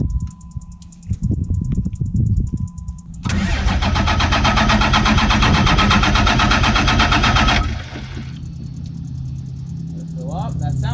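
A dually pickup truck fitted with new injectors cranks, then its engine catches and roars loudly for several seconds before settling into a steady idle, close up, with people talking around it.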